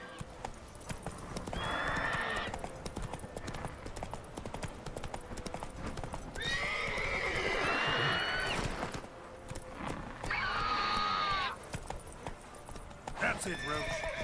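Roach, the horse in The Witcher 3: Wild Hunt, gallops with steady rhythmic hoofbeats, neighing loudly in several bursts, while a person talks over the running.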